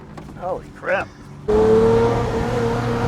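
A Lamborghini Murcielago engine bursts into a loud, sustained roar partway through, holding a strong steady drone up close. Before it a man exclaims briefly over a quieter background.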